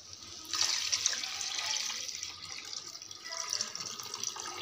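Water and rice for chicken biryani pour into a pot with a steady rushing splash that swells and fades, close and fairly quiet, with no voices.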